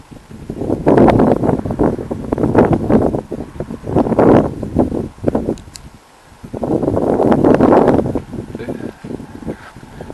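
Strong, gusty wind over an exposed riverside lookout on a Main river bend, roaring into the microphone in loud surges with a brief lull in the middle.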